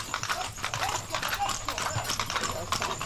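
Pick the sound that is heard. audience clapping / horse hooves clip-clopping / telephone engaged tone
horse hooves clip-clopping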